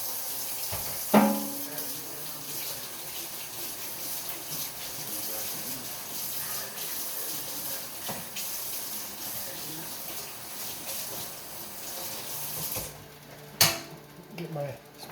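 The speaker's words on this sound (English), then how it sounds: "Let me wash my hands." Water runs steadily from a kitchen tap while hands are washed, a continuous close hiss lasting throughout, with a couple of brief knocks or splashes near the start and end.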